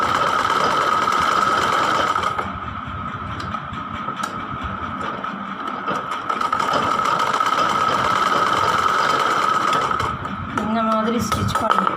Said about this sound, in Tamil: இந்த எட்ஜும் 2 எட்ஜ்லேயும் இப்படி ஸ்டிச் பண்ணிக்கோங்க